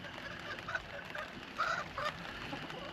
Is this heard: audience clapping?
no